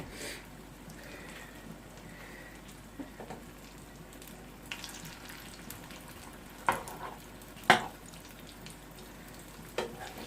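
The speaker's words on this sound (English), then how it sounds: "Stir it now. You stir it up." Yam cooks in a pot under a soft continuous bubbling sizzle, with a few scattered stirring scrapes and clunks that grow sharper toward the end.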